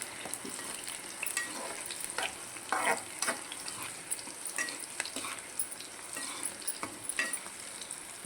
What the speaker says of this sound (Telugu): ఆయిల్ వేసేటప్పుడు పచ్చిమిరపకాయ వేసినప్పుడు ఒక్కొక్కసారి పేలుతుంది అన్నమాట